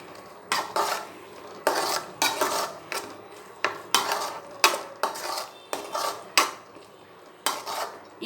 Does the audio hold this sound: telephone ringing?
no